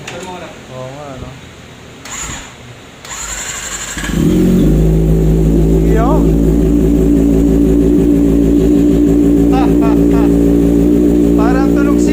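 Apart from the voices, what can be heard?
Kawasaki ZX25R with R9 full titanium exhaust starting and revving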